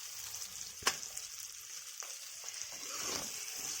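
Chopped ivy gourd (dondakaya) sizzles quietly in hot oil, a soft continuous frying hiss broken by a few sharp crackles and stirring clatters.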